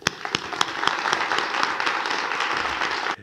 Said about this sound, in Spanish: Vamos a dar un buen aplauso, un gran aplauso para animarle a Pedro Ortega